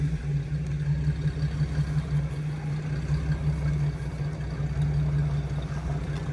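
A 4.3 engine runs steadily in a vehicle creeping along slowly, a continuous low idle-like hum with a strong steady drone, close and unbroken, with no talk over it.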